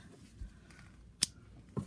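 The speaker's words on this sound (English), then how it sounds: "So I'm going to get some scissors to do that." Scissors make one crisp snip through crochet yarn, quiet and close, followed by a faint soft tap in an otherwise hushed room.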